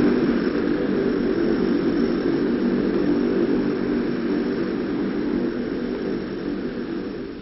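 A Lockheed C-130E turboprop transport aircraft drones steadily, a loud continuous propeller and engine roar that fades slightly toward the end, with no voices.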